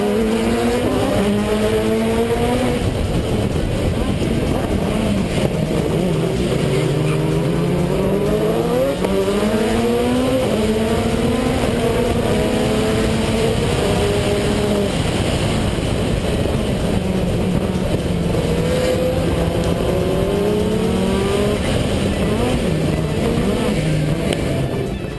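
Race cars roar around the Dover circuit in Jamaica, engines howling loud and close as several cars pass with rising and falling pitch sweeps, one car suffering a misfire, with faint commentary underneath.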